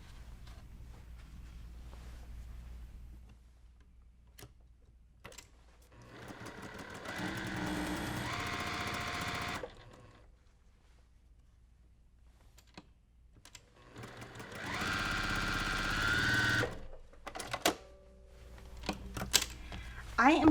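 A sewing machine chain-pieces fabric squares for a Christmas quilt block at a quarter-inch seam, running in two steady whirring bursts with quiet pauses between them.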